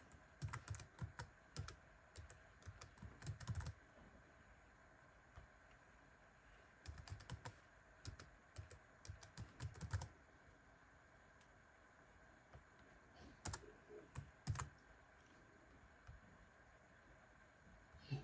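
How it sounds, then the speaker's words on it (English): Password being typed on a computer keyboard during a Linux Mint 22.1 install, three separate bursts of quick, soft key clicks with pauses between, faint and close. "Just type in any password."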